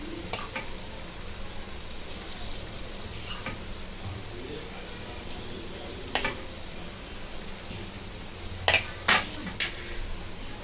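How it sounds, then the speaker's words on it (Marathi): Steady low crackle and sizzle of pieces frying in a pan over a medium gas flame, with a few sharp clinks and scrapes of utensils near the end. "आता हे मध्यम गॅसवरती तळून घेऊया"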